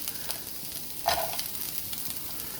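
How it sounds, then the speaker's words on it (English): Carrots and other hard vegetables hitting a hot pan for a chicken stir fry, a soft steady sizzle with a brief louder burst as they go in, quiet and close. "once that pan starts to sizzle, let's go ahead and get these carrots and some of the harder stuff in there"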